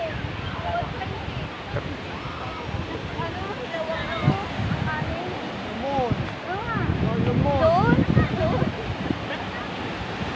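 Strong wind buffeting the microphone at Matabungkay Beach, a steady loud roar with surf-like wash that swells toward the end, while people talk and call out over it.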